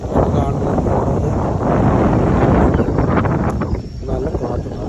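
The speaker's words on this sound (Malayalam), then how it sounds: "നല്ല കാറ്റ്, നല്ല തണുത്ത കാറ്റ്." Cool wind gusts across a rooftop terrace in the hills, a steady loud rush buffeting the microphone throughout with no voices.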